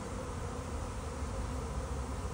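Dense, continuous buzzing of a honeybee swarm moving into a top bar hive, heard close and steady with no talking.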